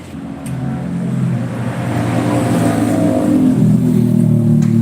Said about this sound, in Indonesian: Lah ini motor kita suaranya kasar kayak gitu kan